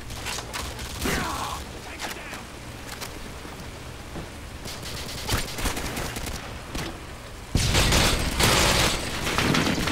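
Gunfire in a first-person shooter game crackles in rapid bursts and single sharp shots. It ends in a loud, dense volley, with a faint voice here and there.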